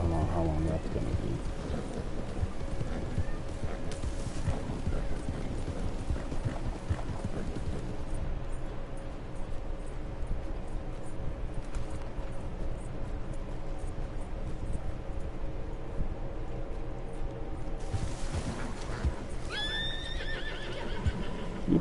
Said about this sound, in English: You can go for a swim, damn horse.